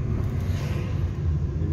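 Light Saturday-afternoon car traffic on a Montevideo street near Ponce and Puey, a steady low rumble of passing vehicles, fairly loud and continuous with no voices.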